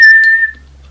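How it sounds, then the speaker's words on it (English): A single clear, steady whistle at a fixed pitch, held for about half a second, triggers a whistle-activated switch, followed by a faint click and near silence. "every time you whistle,"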